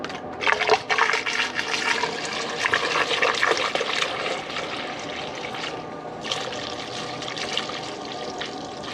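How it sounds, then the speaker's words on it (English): Coolant pours and gurgles steadily into a Pontiac Solstice, Saturn Sky or Opel GT cooling system, a continuous watery rush with bubbling, louder at first then settling into a steady flow. "you might hear it flowing through the system just a little bit"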